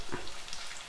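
Bitter gourd pieces frying in oil for a pickle give a brief, steady hiss of sizzling, close and moderately loud, with no voices.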